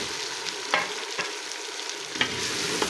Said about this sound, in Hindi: शलजम डालकर अब इन तीनों चीज़ों को हम तकरीबन 5 मिनट कम से कम अच्छी तरह से भूनेंगे।